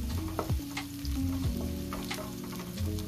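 Chopped garlic sizzles and fries in a pan toward golden brown for Filipino pork humba, a steady close crackle with a few stirring scrapes of a utensil, and no talking.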